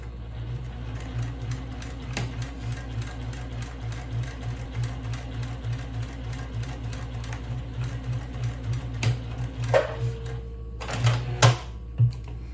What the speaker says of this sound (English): so let's go to the sewing machine. I'm going to start to sew